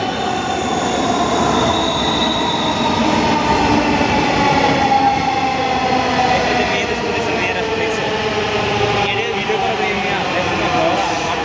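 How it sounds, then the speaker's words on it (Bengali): A train runs along the railway at Diabari in Uttara, Dhaka, with a loud, continuous rumble, rolling wheel noise and drawn-out metallic squeals close by. "আমরা এখানে ট্রেনের জন্য অপেক্ষা ট্রেন আসলে দেখা হবে"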